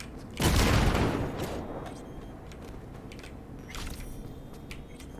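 A grenade goes off in Cyberpunk 2077 with one heavy, booming blast that decays over about a second, followed by scattered lighter gunfire and debris sounds.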